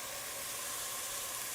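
A spoonful of fancy spice sizzles and browns in a hot pan, likely in butter, giving a soft, steady frying hiss that stays even and fairly quiet throughout.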